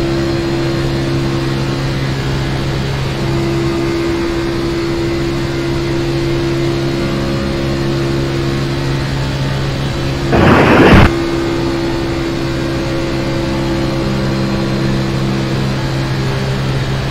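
Truck engine held at redline in a sim racing game at Daytona Speedway, a loud, steady droning tone that barely varies, broken once midway by a short, sharp burst of noise before the drone resumes.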